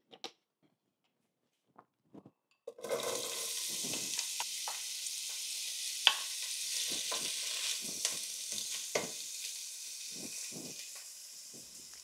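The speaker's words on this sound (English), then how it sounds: "Heat a little, then put the chopped onion into the pan." Chopped onion hits hot olive oil in a large pan and bursts into a loud, steady sizzle that holds for about nine seconds, broken by occasional soft stirring scrapes, with only a few faint knocks before it begins.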